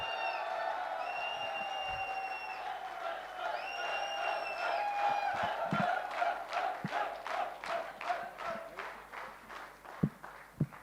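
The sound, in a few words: audience applause and cheering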